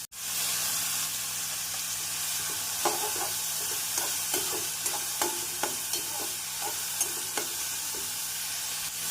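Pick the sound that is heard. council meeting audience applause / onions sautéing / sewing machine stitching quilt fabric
onions sautéing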